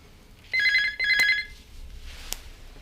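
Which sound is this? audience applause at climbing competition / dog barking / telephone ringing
telephone ringing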